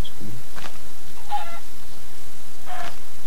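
Chickens in Minecraft give a few short, separate clucks spaced apart over a quiet background, sounding close and fairly clear.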